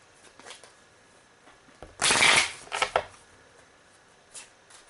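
A deck of cards is shuffled at a tabletop game of Sentinels of the Multiverse, a brief riffle burst followed by a couple of softer taps, fairly close against a quiet room.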